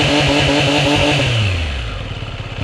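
A Triumph Street Triple 765 RS motorcycle with a shorty exhaust runs loud and close, its engine revving with a throbbing pulse and then the pitch dropping as it eases off.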